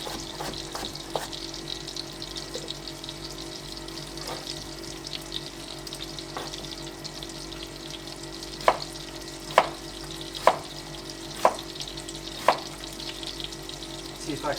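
Thick-cut onion half rings fry in a pan, a steady low sizzle running throughout, with a short series of sharp clacks of a utensil against the pan near the end.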